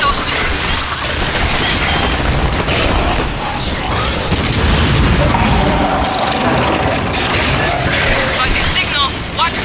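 Gunfire and blasts from Aliens: Fireteam Elite fill the space while capacitors are being shot, a dense, loud stream of rattling shots and booms with no letup.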